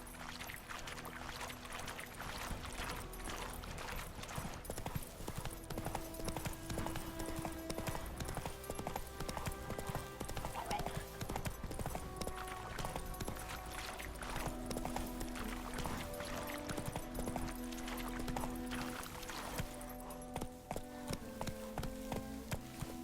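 A horse's hooves clip-clop steadily at a fast pace in The Witcher 3: Wild Hunt on PS5, a continuous drumming under game music and ambience with no break.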